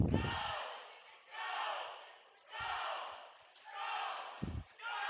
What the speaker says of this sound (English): His Irish teammates cheering him on, as you can hear him in the background.